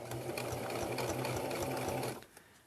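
A sewing machine stitching fabric on a rice-filled microwavable heating pad, running with a steady, fast mechanical whir and rhythmic needle pulses for about two seconds before stopping abruptly, close and moderately quiet.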